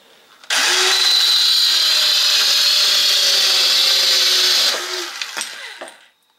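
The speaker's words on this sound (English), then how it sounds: "You're cutting through a 2x4 that way." A Makita SH02Z 3-3/8" cordless circular saw cuts through a 2x4, spinning up to a loud, steady high whine for about four seconds, then winding down with a few light knocks.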